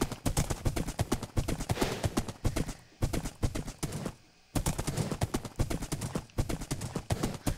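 Horse hooves galloping in a video game, a fast rhythmic run of sharp clip-clop beats, loud and close, with two brief pauses where the hoofbeats drop out.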